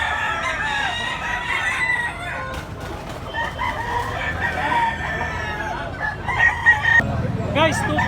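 A full stag gamefowl with yellow legs, about two and a half kilos, crows several times, loud and close, over a busy outdoor market backdrop in Tabunok, Cebu, with background voices.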